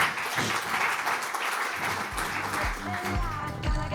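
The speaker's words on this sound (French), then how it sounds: "Emmanuel, on peut applaudir également." Audience applause at a corporate communications summit greets a guest as he joins the stage, a steady wash of clapping that continues with voices speaking over it toward the end.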